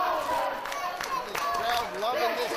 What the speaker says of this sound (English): This crowd loving this match.